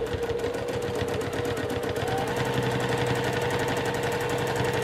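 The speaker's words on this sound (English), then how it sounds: "I just wanted to demonstrate my free motion quilting" A sewing machine running steadily at close range while free-motion quilting a continuous line on a flying geese quilt, giving a fast, even mechanical stitching rattle with no pauses.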